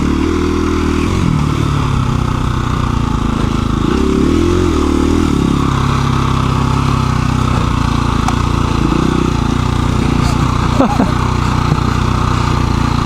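A KTM 350 EXC-F dirt bike rides single-track trail, its engine a continuous loud buzzing drone with shifting revs and brief throttle surges, heard up close with no talk.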